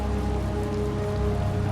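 Rain falls steadily in the video game Tales of Vesperia, a continuous patter of drops on surfaces with a faint low hum beneath, no voices.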